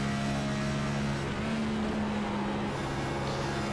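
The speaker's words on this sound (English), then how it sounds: "See him downshifting as he entered into turn 1." A race car at Darlington Raceway downshifts entering turn 1 in a sim racing series, its engine a steady loud drone with the pitch dropping briefly mid-clip, no talk.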